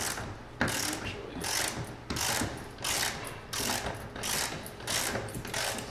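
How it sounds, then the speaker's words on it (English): Screws being backed out of the wooden shipping crate of a Kawai GL10 grand piano, probably with a power driver, giving a steady ratcheting, mechanical whir in repeated close bursts with no talking. "So we're just going to unscrew some of these."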